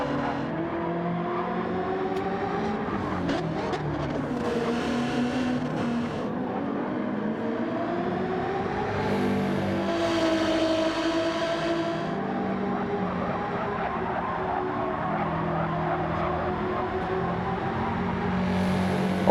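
Race cars in Gran Turismo 7 scream around the track in a DTM race, engines revving up and down through gear changes, with several cars droning close together and one passing by.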